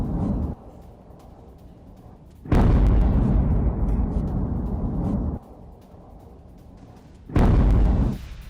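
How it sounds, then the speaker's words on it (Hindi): Heavy booming blasts from bombing of an oil storage depot in Tehran: two loud, sustained roaring bursts stand out against a lower rumbling background, each lasting a couple of seconds. "बमबारी से ऑयल स्टोरेज में भी धमाका हुआ।"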